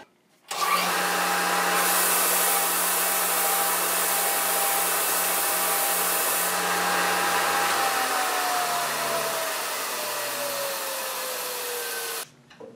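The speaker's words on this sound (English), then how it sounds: "I'm going to clean it up on my edge sander" Edge sander smoothing the surface of a laminated wooden board, a loud steady whine and grinding hum starting abruptly, running continuously with a slight pitch drop under load, then cutting off near the end.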